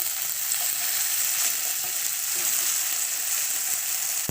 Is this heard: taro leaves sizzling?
yes